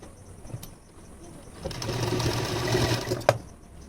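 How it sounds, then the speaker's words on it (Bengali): Sewing machine stitching two strips of fabric together into a straight joint for thin piping, a close whirring run of about two seconds after quieter handling noises. "এইভাবে সোজাসুজি আমি একটা সেলাই করে নেব"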